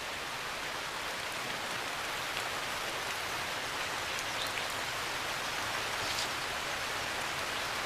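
Steady rain falls in an Indian forest, a soft, even hiss of drops on leaves and ground that continues without break at low volume, with no other sounds standing out.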